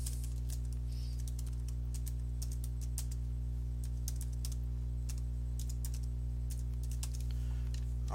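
Text is typed on a computer keyboard in a series of crisp, close key clicks in irregular bursts over a steady low electrical hum, with no talking.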